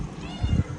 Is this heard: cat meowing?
yes